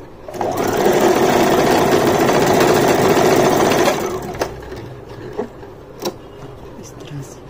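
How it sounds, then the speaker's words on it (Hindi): A sewing machine runs a continuous stitch along the edge of gents' underwear, loud and close for about four seconds, then stops and leaves a few scattered clicks and handling sounds. "यहाँ हम एक और सिलाई लगा देते हैं बिल्कुल किनार पे"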